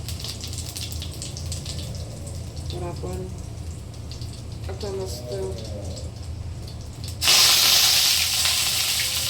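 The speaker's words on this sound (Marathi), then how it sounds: "आपण आता मस्त जिरे टाकून घेऊया. जिरे आणि ही मोहरी. याला आवाज आला ना मस्त" Cumin and mustard seeds hitting hot oil in a pan burst into a sudden loud, hissing splutter near the end, after a stretch of quiet background where someone speaks.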